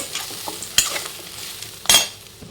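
Coconut sizzles softly as it is sautéed in a pan, with a constant low frying crackle broken by a couple of sharp scraping stirs of the spoon, close and with no voices.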